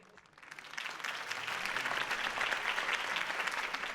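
Video game crowd breaks into loud, sustained applause that swells quickly and keeps going steadily, dense clapping with no voices over it, from Batman: The Telltale Series.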